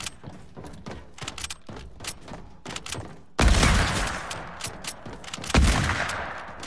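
Rapid bursts of Fortnite gunfire crackle repeatedly, then a louder, heavier barrage of shots erupts with booming impacts, loud and close.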